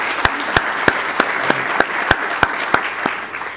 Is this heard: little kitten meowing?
no